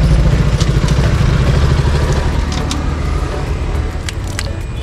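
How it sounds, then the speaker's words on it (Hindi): A motorcycle engine idles loud and close, a steady low rumble with some light metallic rattles and clinks over it. "तेरी बाइक से अच्छी आवाज़ तो मेरी बाइक की आ रही है"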